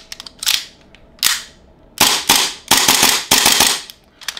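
An Arcturus Hi Capa airsoft gas pistol loaded with a Tokyo Marui magazine fires seven loud, sharp, close shots, first two spaced apart, then a quicker irregular string, each with a brief gassy tail.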